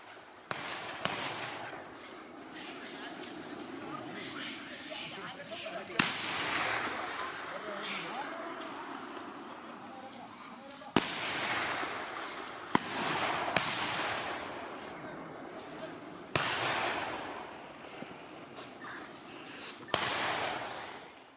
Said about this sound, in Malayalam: വെടിയൊച്ചയും വലിയ ശബ്ദവും ഉണ്ടാക്കി കാട്ടിലേക്ക് തിരികെ ഓടിക്കുന്നതുവരെ